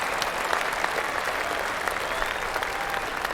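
Golf crowd applause from PGA Tour 2K23 at a Canadian Open course: steady, dense clapping from many spectators, loud and continuous throughout.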